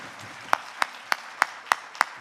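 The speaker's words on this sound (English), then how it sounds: "please give him a nice round of applause" At a municipal election debate, six slow, evenly spaced single hand claps ring out one after another, close and sharp, like one person clapping rather than a full crowd.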